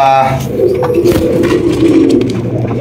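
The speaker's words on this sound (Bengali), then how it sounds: "সিঙ্গেল একটা জ্যাকোবিন কবুতর, এটা হচ্ছে হলুদ জ্যাকোবিন" A yellow Jacobin pigeon coos close by in a low, steady rolling murmur, loud and continuous throughout.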